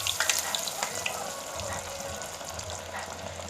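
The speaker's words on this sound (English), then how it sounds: "now we're going to deep fry them" Bread-crumbed fish fillets deep frying in oil, a steady close bubbling sizzle with faint crackles throughout, alone with no talk.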